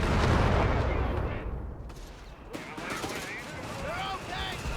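Heavy gunfire rattles across a Company of Heroes 3 battlefield, dense overlapping bursts and booms that roll on continuously, with a voice talking over parts of it.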